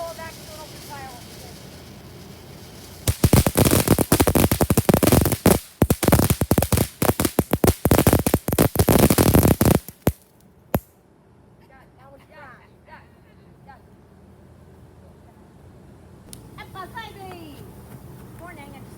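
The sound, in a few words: fireworks going off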